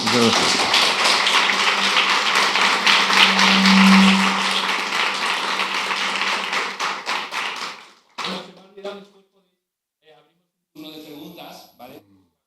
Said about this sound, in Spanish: Recibamos con un fuerte aplauso a Guillermo